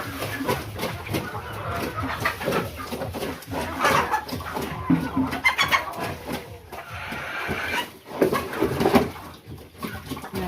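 Farm chickens cluck and murmur near pigs, with scattered bird calls rising and falling over a busy yard and occasional brief noises in between.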